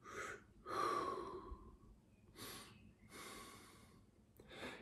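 Deep breaths drawn in and let out through the nose during a breathing exercise, several slow, audible, close inhales and exhales in a quiet room with no talking.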